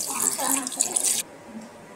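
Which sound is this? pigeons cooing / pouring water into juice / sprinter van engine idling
pouring water into juice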